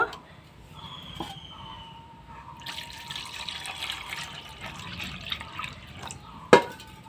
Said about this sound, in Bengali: এই নোংরা জলটা এখন আমি ফেলে দিব